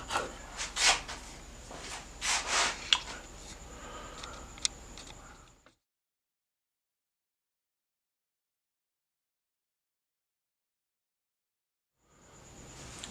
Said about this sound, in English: slices off really easy if your chisel is sharp